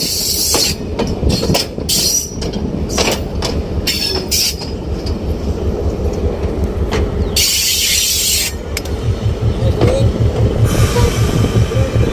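A mainline passenger train at a station where the locomotive is uncoupled and turned on a turntable, heard as steady rumbling rail noise with clickety-clack wheel rhythm and brief bursts of hiss and squeal, loud and continuous throughout.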